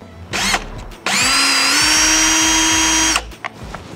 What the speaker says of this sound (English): put the drill in reverse and kind of spin it on the center to make like a center punch